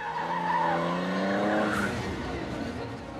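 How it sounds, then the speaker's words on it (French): Race cars skid hard out of a corner under heavy throttle, their tires squealing in long rising and falling tones that fade into rough road and engine noise; loud and close. "Les pilotes dérapent énormément, appuyant très fort sur l'accélérateur pour sortir du virage."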